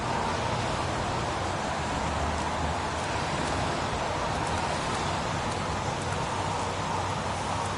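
Steady rainfall hisses continuously in the PS4 video game Heavy Rain, a dense, even wash of rain noise with no talking over it.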